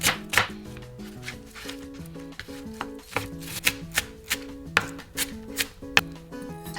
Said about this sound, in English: Finely chop the onion.